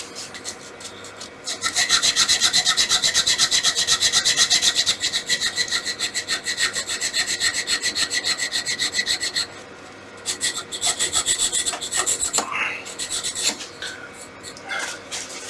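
Turned wooden whistle spinning on a lathe while being sanded with 600 grit abrasive, a loud continuous close rasping hiss that pauses briefly and resumes with uneven pressure.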